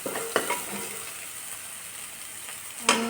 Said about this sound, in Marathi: फक्त तेल गरम करत ठेवलं होतं आणि त्याच्यामध्येच हा मसाला टाकायचा